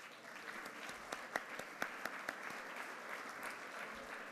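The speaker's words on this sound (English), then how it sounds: "Round of applause, please." Applause from the audience at the Celebration of Leaders 2019 event for the Chamber staff. It is quiet and a bit distant, with scattered individual claps standing out over a softer wash of steady clapping that fades slightly toward the end.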